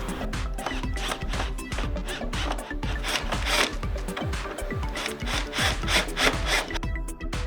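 Rhythmic back-and-forth rasping of a hand tool shaping the corners of wooden structure bases for a foldable surfboard shaping stand, close and steady with regular strokes throughout.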